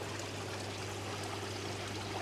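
A steady rush of water pours and trickles continuously from a bottom drain into a koi pond filter, close by, with a low constant hum underneath.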